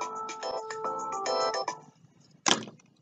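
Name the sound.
telephone ringing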